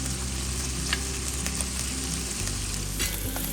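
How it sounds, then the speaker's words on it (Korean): Beef intestines (gopchang) stir-frying with green onion in a hot pan give a loud, steady sizzle that runs unbroken, with faint scrapes of stirring and no voices. "2분 정도 볶은 다음 대파 흰 부분을 넣어주세요."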